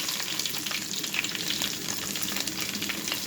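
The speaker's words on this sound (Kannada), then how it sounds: "ಈಗ ಬೆಳ್ಳುಳ್ಳಿ ಹಾಕ್ಕೊಳ್ತಾ ಇದ್ದೇನೆ." Garlic fries in coconut oil in a clay pot with mustard seeds and cumin already added, giving a dense, steady, close sizzle throughout with no speech.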